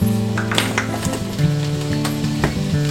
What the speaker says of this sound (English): I'm going to let this saute a little bit with some mushrooms